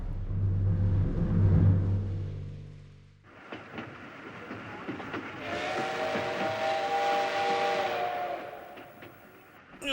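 A steam train carrying wounded soldiers toward Daegu in a Korean War radio drama: a low puffing rumble gives way to chugging, then a long, loud, sustained steam whistle rings out over the moving train.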